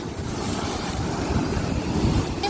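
Sea waves wash against the rocky coast near Hyangiram in Yeosu, a continuous loud roar of surf mixed with gusty wind buffeting the microphone, steady throughout with no speech.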